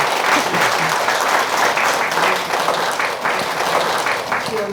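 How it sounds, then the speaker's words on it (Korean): An audience at a Buddhist sutra-copying talk gives a steady, dense round of applause that fills the room for the whole stretch, loud and close, with some faint voices underneath. "큰 박수로"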